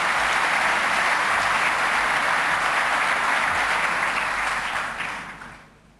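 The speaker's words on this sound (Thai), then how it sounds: "ซึ่งได้รับเสียงปรบมือชื่นชมอย่างมาก" A large audience applauds a lecture on regionalism at the APEC CEO Summit: steady, dense clapping that holds for about five seconds, then quickly fades away.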